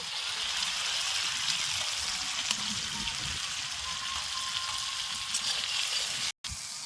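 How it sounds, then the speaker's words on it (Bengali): Tomato going into a fried spice paste for a tilapia and poppy seed fish curry, a steady close hissing sizzle that runs on evenly with only faint clinks and a sudden brief cutout near the end. "দেখুন মশলাটা বসানো হয়ে গেছে এবার টমেটা পুরোটা দিয়ে দেবো"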